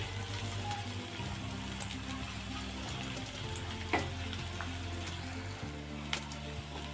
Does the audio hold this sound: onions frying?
yes